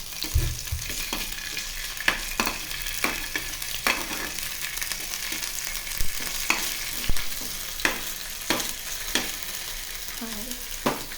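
Ginger garlic paste, with turmeric, sizzles steadily in a hot pan while a utensil scrapes and stirs in repeated sharp strokes, the frying hiss constant and close throughout.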